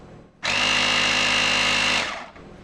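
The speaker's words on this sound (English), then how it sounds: "up here is the compressor switch, and I'll turn it on. It's kind of loud. It's actually really loud." Air compressor built into a Stanley Fat Max 450 amp jump starter switching on: a loud, buzzing, high-pitched motor whine starts abruptly, runs steadily for about a second and a half, then cuts off and fades.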